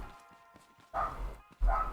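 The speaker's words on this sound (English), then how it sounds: "now the other neighbor's dog is barking" A neighbor's dog barks twice from a short distance, two distinct woofs against a quiet background.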